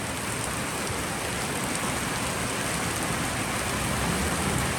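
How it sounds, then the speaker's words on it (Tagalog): Rain falling on an asbestos roof, a dense, steady hiss of drops drumming evenly and fairly loud throughout, with no voices. "Ang asbestos po ay hindi maingay pag bumaksak ang ulan"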